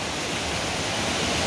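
Wildman Twin Falls pours in a loud, unbroken roar, with high water rushing through the hollow close by and no voices over the steady wash.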